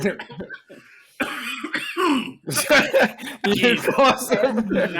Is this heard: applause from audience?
no